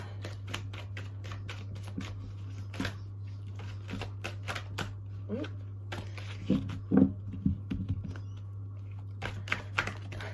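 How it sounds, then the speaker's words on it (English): A deck of tarot cards is shuffled by hand during a reading, with crisp flicks and riffling taps in irregular bursts, some louder clicks near the middle, over a steady low hum while a person talks throughout. "The cards keep flicking out"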